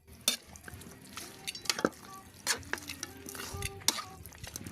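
Native chicken sautéed in a pan: a soft, close sizzle with repeated clinks and scrapes of a utensil stirring against the metal, in intermittent strokes.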